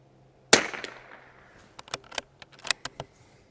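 A Bergara B14R rifle fires at an outdoor range: one loud, sharp report with a long decaying tail, followed by a scattering of fainter, distant gunshots and clicks from the surrounding firing line.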